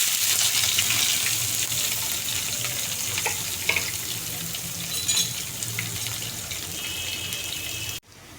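Onions and green chilies fry in hot oil in a home kitchen, a steady close sizzle with occasional light stirring clinks, continuous until an abrupt cut near the end.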